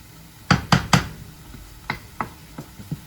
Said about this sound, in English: So here I keep stirring it